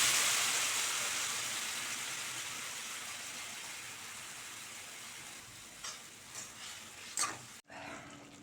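Tamarind and chilli mixture simmering down in a pan, a broad steady sizzle that slowly fades, followed by a few soft stirring scrapes near the end.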